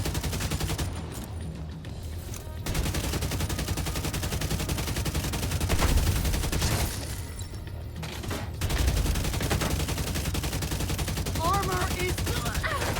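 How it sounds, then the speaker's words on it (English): Sustained automatic gunfire in The Division 2, with dense rapid bursts that keep going with brief gaps. A voice speaks briefly under the shooting near the end. "Firing on hostile."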